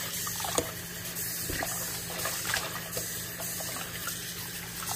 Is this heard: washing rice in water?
yes